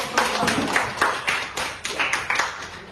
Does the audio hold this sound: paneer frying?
no